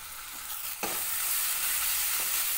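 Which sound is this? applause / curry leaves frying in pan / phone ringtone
curry leaves frying in pan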